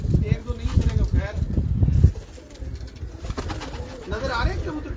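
Pigeons cooing from a Karachi loft of prized bloodline birds, soft throaty calls close by, mixed with people talking and background bustle.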